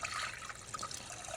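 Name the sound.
water poured over rice in a pot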